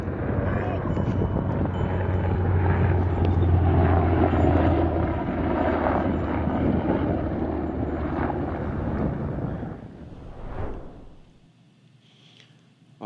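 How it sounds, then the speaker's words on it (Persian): American military aircraft and helicopters drone overhead above Iran during a search and rescue for downed fighter pilots, a sustained loud engine and rotor roar that fades away near the end, with some voices mixed in. "تصاویر زیادی از پرواز هواپیما و هلیکوپترهای آمریکایی بر فراز ایران"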